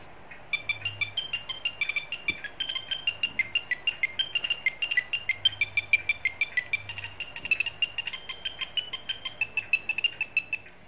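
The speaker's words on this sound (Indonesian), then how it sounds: "Ini untuk Nokia Tune-nya" A Nokia 8310 phone plays the Nokia Tune ringtone, a bright, tinkling melody of quick regular notes, steady and clear from start to finish with no voices.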